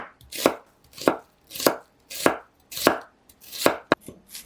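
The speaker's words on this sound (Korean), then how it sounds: "양파는 채 썰어 주세요." Onion being thinly sliced with a knife on a cutting board for a Korean side dish, giving seven crisp, evenly spaced chopping strokes close up with quiet pauses between them.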